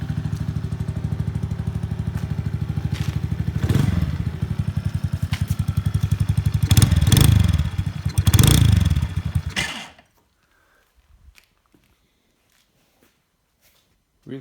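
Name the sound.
Venom 50cc mini chopper motorcycle engine revving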